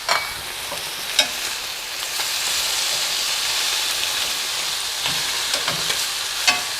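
Chicken sizzling in a skillet on lowered heat, a loud, continuous broad hiss close by, with a few sharp knocks and scrapes as the pieces are turned.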